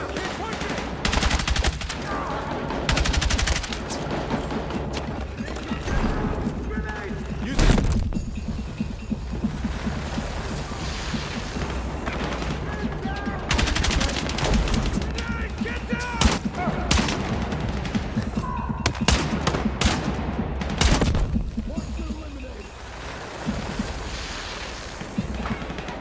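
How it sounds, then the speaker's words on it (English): Sustained suppressive gunfire in the video game Battlefield 6: dense, continuous bursts and rattling volleys fill the whole stretch, loud and close, with shouted voices breaking through now and then. "Suppressive fire. Keep pushing."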